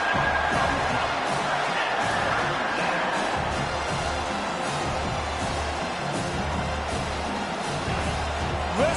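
A large stadium crowd in a college football video game roars and cheers continuously after a defensive sack, a dense wash of noise that swells slightly but never lets up, with no clear speech.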